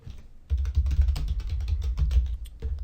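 Rapid typing on a computer keyboard, a steady run of close, crisp key clicks with no talk over it, starting about half a second in and continuing to the end.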